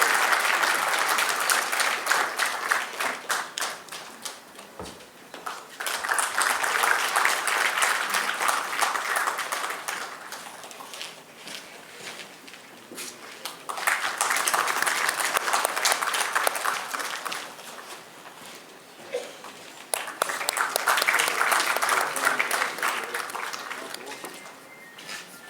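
An audience applauds in a large auditorium at a closing session, with three long waves of clapping that rise, hold, and fade between rounds.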